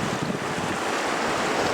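Wild, choppy sea water comes in off the open sea at Loch Ness, giving a loud, steady rush of waves and surf mixed with heavy wind buffeting the microphone, with no voices.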